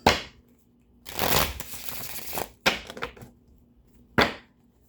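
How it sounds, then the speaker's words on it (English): Tarot cards being shuffled close up in several bursts: a sharp riffle, a longer shuffling stretch, then two more quick riffles with quiet gaps between. "I'm going to just shuffle and keep using these to clarify."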